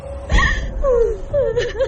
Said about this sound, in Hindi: और किसी के रोने की आवाज सुनाई दी।